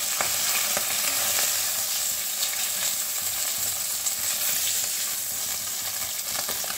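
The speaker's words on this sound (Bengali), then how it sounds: "এই যে মাছ ভাজাটা হয়ে গেছে, এবার একটা একটা করে এটা নামিয়ে নিই আমি" Pieces of katla fish frying in hot oil give a constant, close sizzle, with occasional light clicks as they are lifted out of the pan one by one.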